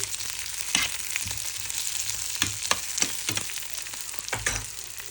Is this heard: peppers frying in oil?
yes